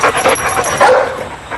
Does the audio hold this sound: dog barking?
yes